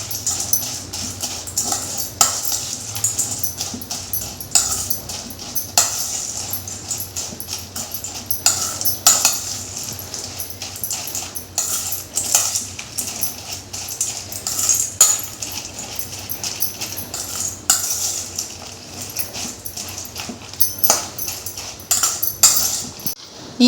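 Fried sev being tossed with sugar syrup in a vessel for Kerala-style sweet sev (madhura seva): steady scraping and clinking of a spoon against the pot, repeated throughout at moderate loudness with no talking.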